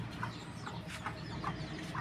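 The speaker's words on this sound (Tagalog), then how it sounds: "may manok pang na, nasa labas" Chickens cluck in short, repeated bursts amid a busy, noisy outdoor background, fairly close by, outside a coop.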